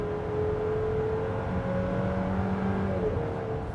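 A 2025 Buick Enclave engine revs hard under acceleration, a coarse, steady drone with a rising harmonic tone heard from inside the cabin, continuous and fairly loud for nearly four seconds.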